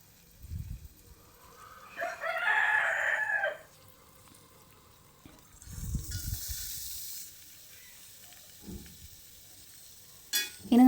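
Chopped onions dropped into a hot pan of oil, giving short bursts of sizzling and stirring separated by quiet gaps, fairly close and moderately loud.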